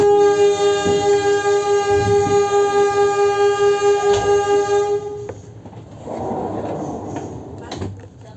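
The Kahuripan passenger train at Blitar station sounds a long, loud, steady horn for about five seconds as it prepares to depart, followed by rumbling station and railcar noise with some voices.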